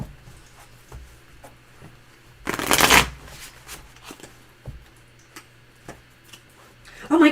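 A brand-new tarot card deck is riffled in one loud shuffle lasting about half a second, with quieter handling and soft clicks of the cards before and after it.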